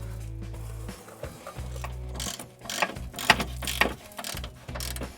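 Metal wrench work on a 13/16 control arm nut being levered free by foot, heard as a series of sharp metallic clicks and scraping knocks over a steady low hum, moderately close.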